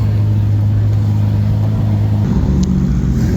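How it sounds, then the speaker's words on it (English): Cars idling and starting up at a Lamborghini holiday toy drive, a loud close engine rumble with a steady low drone that shifts in pitch partway through as another engine joins in. "everybody's starting up their engines"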